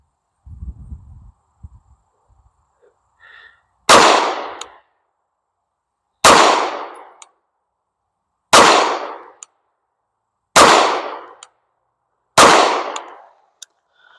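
Canik Mete Prime pistol firing 115 grain full metal jacket rounds at an outdoor range, five loud sharp shots spaced roughly two seconds apart, each with a quick decaying echo, after faint handling sounds.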